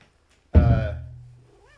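House cat gives a single loud, close meow, a sharp onset that trails off into a fading tail, with faint room sounds around it and no talk.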